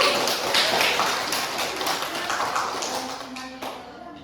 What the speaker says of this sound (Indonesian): Berilah aplaus untuk kelompok.